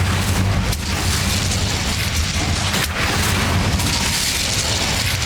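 A fire spell explodes in Hogwarts Legacy, a loud, sustained roaring blast of flame with deep rumbling low end, dense and close throughout, with a couple of brief dips.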